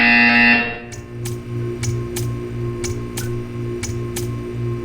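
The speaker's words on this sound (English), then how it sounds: "You will hear a buzzer." In the Portal 2 video game, a loud electronic buzzer blares briefly at first, then gives way to a steady hum with a series of sharp, evenly spaced ticking clicks.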